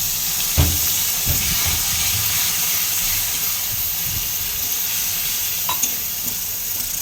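Water poured into a hot pan of chilli powder masala for a tilapia curry sets off a loud, steady steaming hiss with a few soft clanks and stirring knocks, and no talking.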